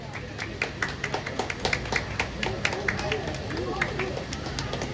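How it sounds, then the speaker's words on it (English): Scattered clapping from a small audience at a bluefin tuna cutting show in a store, a loose run of sharp individual claps over a few seconds with light background chatter. "Round of applause."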